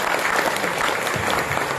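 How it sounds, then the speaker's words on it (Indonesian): An audience at a parenting seminar gives a short, loud round of applause, many hands clapping continuously and close to the microphone. "Tepuk tangan untuk kita semua."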